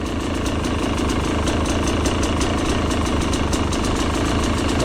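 A 2025 Fantic XE300 motorcycle engine runs steadily at a loud, close, even idle-like rumble with a fast regular ticking pulse throughout.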